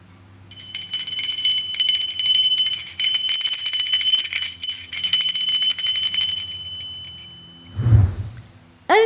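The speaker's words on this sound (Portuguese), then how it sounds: "quero comentar a função deste sino" A bell rings in a long sustained peal of bright, shimmering strokes for several seconds, then stops, followed by a short low thump and a brief rising tone near the end.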